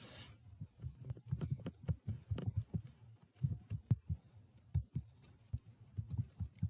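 Computer keyboard typing while filling in an online police or health report form, irregular quiet clicks and taps in short bursts, close and alone.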